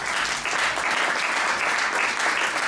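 A church congregation applauds at a worship service, producing dense, loud, continuous clapping that holds steady throughout.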